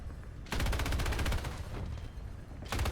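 Video game gunfire in the Mad Thunder event erupts in loud, rapid automatic bursts, one long rattling volley followed by a pause and another burst, with no talking.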